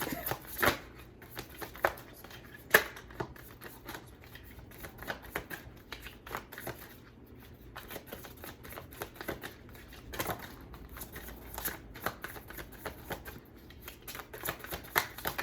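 Tarot cards being shuffled during a reading give soft, irregular riffling and flicking, with sharper slaps now and then, close by and fairly quiet, with no talking.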